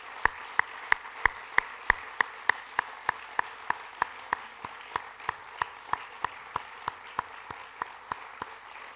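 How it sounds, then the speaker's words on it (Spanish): Steady rhythmic clapping from a crowd at a socialist political rally, sharp even beats in unison, continuing at a regular pace with no talking over it. "Que este aplauso de homenaje y orgullo socialista retumbe en el Valle."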